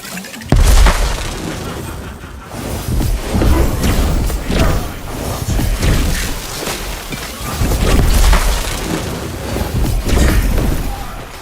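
Grenade blasts in a fantasy action game, a series of loud, heavy booms and thuds going off one after another with short gaps, close and forceful, with scattered crashing debris between them.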